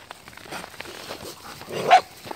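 A puppy gives a short, faint bark near the end of a quiet moment, with soft rustling around it.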